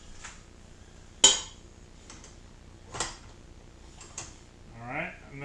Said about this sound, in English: Get my bowl on my mixer. Get my dough hook on.